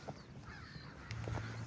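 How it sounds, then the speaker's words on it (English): Crows caw in the morning near a river walk, their harsh calls coming from a moderate distance over steady outdoor background noise. "Oh, birds are noisy this morning."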